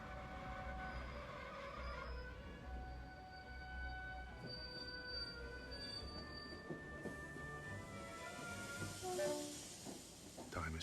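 A train rolls in and slows, wheels squealing and brakes hissing in long high tones over a low mechanical rumble.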